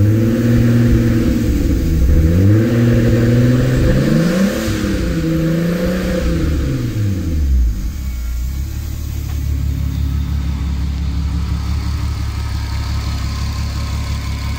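A turbocharged VW Golf Mk4 R32 engine runs on a dyno, revving up and down through several loud sweeping pulls before settling into a steady, rumbling idle, with no talk over it.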